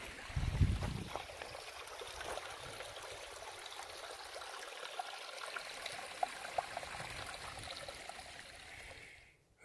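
A mountain stream flows steadily beside a hiking trail on the way to Hidden Lake via Devil's Slide, a continuous soft rush and trickle heard from nearby, faint and even for nearly ten seconds before cutting off.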